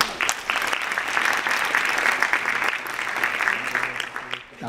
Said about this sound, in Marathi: टाळ्या पुण्याच्या लोकांनी वाजवल्या का इतर लोकांनी.